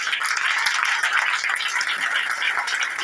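Congregation at a special worship service applauds and cheers for Jesus, a dense, continuous wash of clapping and crowd noise that stays loud and even for the whole stretch.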